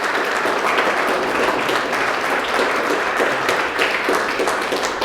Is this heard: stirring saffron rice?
no